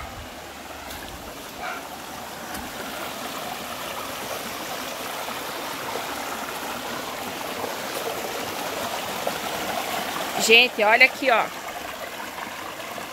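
Crystal-clear stream water flows at a country property, a steady, even rush in the background, with a person speaking briefly near the end.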